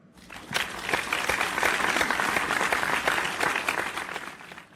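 A church congregation applauds at a worship service, dense clapping swelling in and holding steady before easing off, moderately distant.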